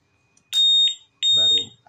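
Two loud electronic beeps from a Honda motorcycle keyless module alarm buzzer, each a steady high tone, with a voice talking under the second beep.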